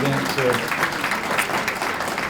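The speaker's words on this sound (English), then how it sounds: "I also want to give Donna and Ted a round of applause." Breakfast attendees at a legislative summit applaud the event organizers, a moderate wash of clapping with a voice speaking over it throughout.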